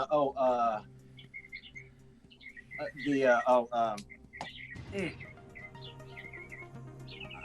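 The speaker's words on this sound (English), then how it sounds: "birds chirping in the background" Small birds chirp in short, high tweets scattered through the background while people talk loudly in the foreground over a steady low hum.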